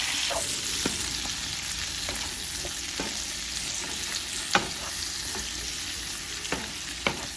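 Shrimp and garlic sautéing in a pan for Cajun shrimp and grits, giving a constant loud frying hiss with occasional sharp clinks of a utensil stirring, heard up close without any voices.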